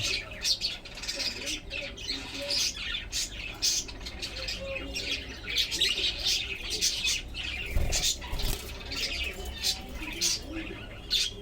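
Busy chirping and tweeting from caged albino budgerigars, a steady stream of short calls throughout, fairly close, with no talking.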